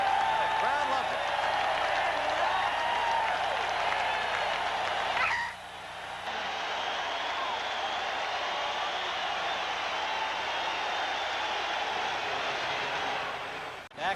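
Stadium crowd at Anaheim Stadium during a 1984 NFL game between the Los Angeles Rams and Chicago Bears, a broad continuous roar of cheering that holds steady, dips briefly midway, then resumes at a slightly lower level.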